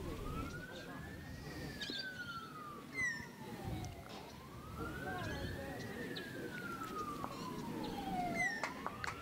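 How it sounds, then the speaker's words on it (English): A police siren wails continuously in long, slow rising and falling sweeps, steady and fairly distant, with faint voices and background noise underneath during a men's pairs state championship semi-final. "Could be the longest siren I've ever heard in my life."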